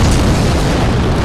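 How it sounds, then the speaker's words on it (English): Enemy explosions in the video game Dark Souls, a loud, dense booming burst that fills the whole brief moment with no voices. "all those little explosion things and things they shoot or throw at you, yeah, they'll F you up"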